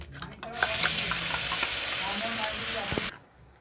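A prepared spice paste goes into hot oil tempered with whole garam masala, dried chillies and bay leaves. A loud, close sizzle follows with scraping stirs and cuts off abruptly after about three seconds.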